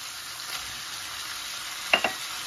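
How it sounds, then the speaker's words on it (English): Peppers, onions and garlic tipped into a pan of sizzling goulash meat, a constant frying hiss with a couple of quick clatters and splashes late on. "now's the time to put in your peppers and onions and the garlic"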